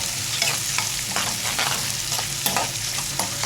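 Onions being mixed in a hot pan for a spinach (palak) curry crackle with a dense, close sizzle, broken by quick stirring scrapes and no talk.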